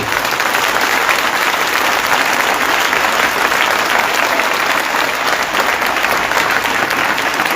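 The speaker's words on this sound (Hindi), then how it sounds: "आइए प्रभु के लिए अच्छी ताली बजाएंगे हम सब" A church congregation applauds together in a dense, sustained wash of clapping that holds steady and loud throughout.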